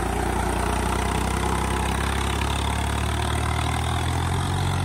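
A John Deere or Eicher tractor engine runs steadily as a stuck tractor is pulled free from the mud, a loud continuous diesel drone that shifts slightly lower toward the end.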